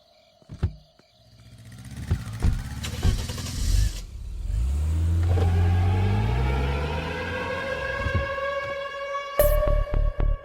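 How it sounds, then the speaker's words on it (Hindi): A car in a film scene cranks and starts, its engine catching with a few sharp clunks before settling into a rising hum and rev as it pulls away, followed by a louder burst of clatter near the end. "कार निकाल।"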